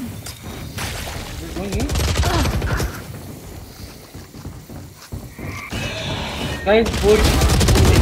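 Valorant gunfire comes in rapid bursts of shots, with a pause midway before another volley. A voice speaks briefly during the clip.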